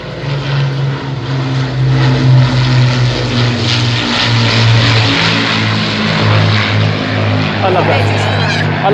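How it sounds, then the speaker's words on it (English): Avro Lancaster four-engine propeller bomber flying past at Headcorn airshow, a loud steady droning multi-engine roar with pulsing harmonic throb sustained throughout, shifting slightly in pitch as it passes. "We're looking at the iconic, war-winning Avro Lancaster."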